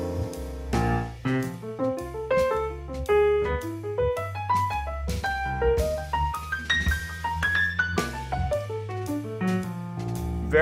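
A jazz exercise of simple triads played in quick triplets, with distinct melodic notes climbing and falling in a steady, busy stream, loud and close with no talking.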